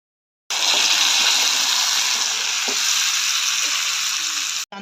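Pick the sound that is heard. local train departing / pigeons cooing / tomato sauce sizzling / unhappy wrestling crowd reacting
tomato sauce sizzling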